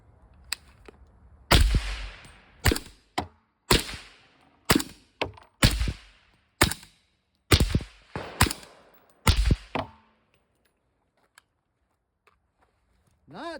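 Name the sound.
suppressed rifle shots, subsonic and supersonic rounds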